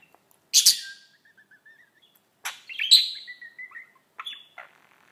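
Small pet birds chirp indoors in a home, giving several separate bursts of bright tweets and short trilling calls with quiet gaps between them, close by and fairly loud.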